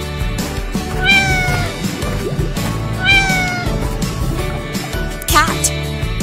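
A cat meows close and clearly, giving two drawn-out meows followed by a short, sharper cry near the end over a faint background murmur.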